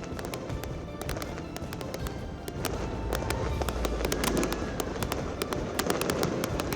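Dense, continuous crackling and popping of a community New Year fireworks display in Western Visayas, many sharp bursts in rapid succession over a steady rumble, sounding moderately distant.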